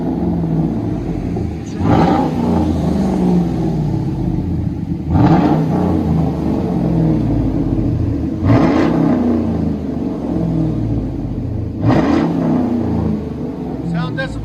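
A Chevy Silverado 5.3L V8 engine runs with a loud, rumbling idle while being revved four times at roughly even intervals, each rev rising sharply and then dropping back.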